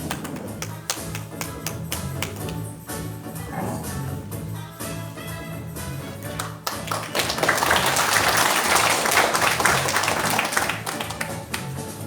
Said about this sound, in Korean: 뜨거운 박수 부탁드립니다.